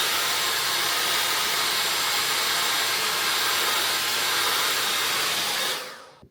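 A £14.99 Dyson Airwrap dupe hair styler blows air with a steady, close broadband whoosh for about six seconds before switching off.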